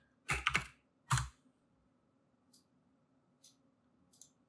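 Several quick computer keyboard keystrokes, a tight cluster of clicks at first and a single tap shortly after, then a few faint light ticks, all close and alone against a quiet room hum.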